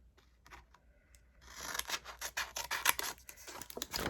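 Scissors snip through epoxy tumbler material up close, a quick series of crisp rhythmic cuts that grows louder and busier after a quiet start.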